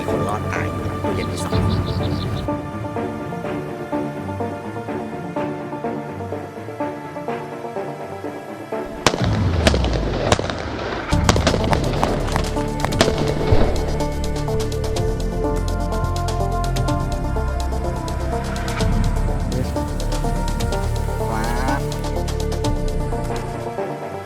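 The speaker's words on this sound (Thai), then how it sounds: "เราจะยิงผ่านอีกทีนึงว่า มันจะชะลอลูกได้ไหม" Gunshots fired through a refrigerator lined with water-filled bottles: a burst of loud, sharp bangs in the middle of the recording, over a steady, dense background din.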